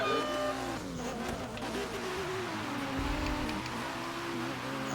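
A Toyota Supra race car engine drones and whines through a drift battle, with wavering revs and tire noise carrying at a steady distance.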